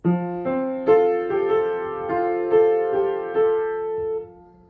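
Piano playing the verse melody of a song from Julie and the Phantoms, a sequence of clear sustained notes struck at a steady, unhurried pace, close and alone with no talking.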